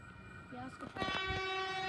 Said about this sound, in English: I'm pretty sure it's an Oscar train.